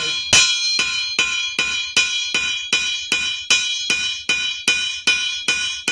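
Copper wire gets hammered flat into a rawhide shape for an arrow, about fifteen evenly spaced ringing metallic blows, close and sharp, each decaying quickly with no talking.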